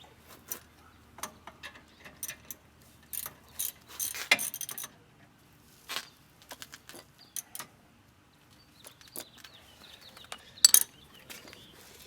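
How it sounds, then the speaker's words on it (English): A ratchet with a 16mm socket tightening a bolt on a BMW E36 rear brake rotor assembly, giving bursts of quick metallic clicks in irregular runs with short pauses between, close and fairly quiet. "Now use a 16mm socket."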